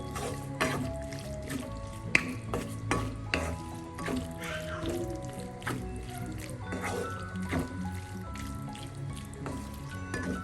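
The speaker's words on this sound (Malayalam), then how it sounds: "കൊഞ്ച് ചേർത്ത് നമുക്ക് എല്ലാം കൂടെ ഒന്ന് മിക്സ് ചെയ്യും." Prawns fry and sizzle in a pan with onions for a Kerala-style prawn theeyal, stirred with repeated scraping strokes over a steady close crackle, with no talk.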